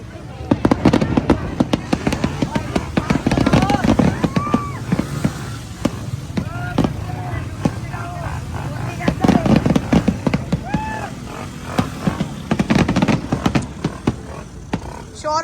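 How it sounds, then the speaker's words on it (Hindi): New Year fireworks pop and crackle in rapid irregular bursts around a foggy Pakistani neighbourhood, some near and sharp, others distant, while someone talks throughout. "आतिशबाजी हो रही है, नो डाउट,"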